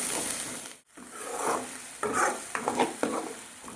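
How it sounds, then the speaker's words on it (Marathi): Onion and tomato paste being stirred in a pan for matar paneer masala, a scraping spoon over a soft sizzle, with a brief pause and then several sharper strokes near the end. "त्याच्यामध्ये आपल्याला टाकायचं आहे कांदा आणि टोमॅटोची गिरवी. मिक्स करायचं आहे."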